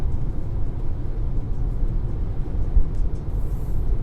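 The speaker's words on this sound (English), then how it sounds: "And we're accelerating now" A car accelerating on the road, heard from inside the cabin as a steady low engine and road rumble with a faint hiss above it, and no talking.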